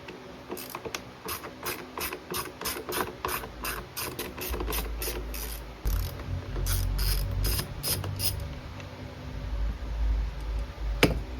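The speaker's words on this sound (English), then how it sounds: "pull maybe these 4 Torxes out so that we can undo the linkage to get it free from the carburetor" A ratcheting screwdriver clicks rapidly in steady bursts while backing out Torx screws from the carburetor linkage of a Stihl BG65 leaf blower, close up, with a low rumble underneath and no talking.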